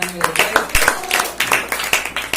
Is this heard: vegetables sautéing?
no